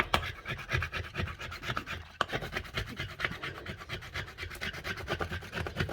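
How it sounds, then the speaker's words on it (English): Scraping sticky white eBay tape residue off a surface, a continuous close rasping rub in quick rhythmic strokes with a brief pause midway. "So I'm just gonna keep scraping. So I find the best thing that works is just to scrape up."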